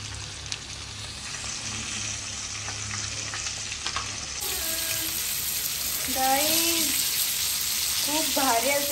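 Stuffed pomfret sizzling in a pan on a home stove, a steady hiss of frying oil with occasional crackles, near and continuous, while people talk and call out over it in the second half.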